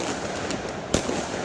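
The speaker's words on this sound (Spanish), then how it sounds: "Hasta la residencia oficial del alcalde Bill de Blasio han llegado los estallidos, como muestran estas imágenes." Illegal fireworks set off near the New York mayor's official residence: one sharp, distant bang over a noisy outdoor background, with no talk.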